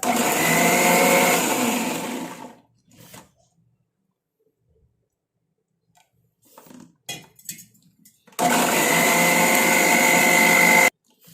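A mixer grinder whirs loudly as it blends a homemade hair dye mix with rice water, running steadily for a couple of seconds, falling silent with a few small knocks, then roaring again for several seconds.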